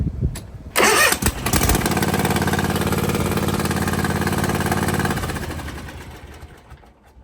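A Toro TimeCutter riding mower, its brake controller bypassed, cranks and fires up, settling into a loud, steady idle for a few seconds before the engine note fades.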